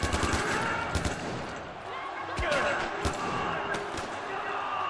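Gunfire in the video game Far Cry 4 crackles in short bursts and single sharp shots, moderately loud over a noisy battle background, with a voice talking over the action.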